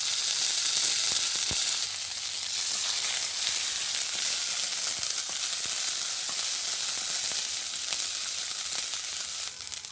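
Ground ginger, coriander and cumin sizzle in hot oil while cooking a Bengali village-style dudh potol, a dense, steady frying crackle and hiss with a few sharper pops and no talk.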